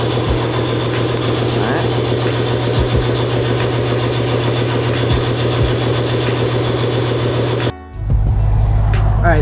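A BMW E92 M3 engine idles steadily, a loud, even hum that runs on alone before a brief dip and a deeper, throatier change in tone near the end.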